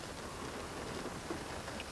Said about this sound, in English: But it's just started raining.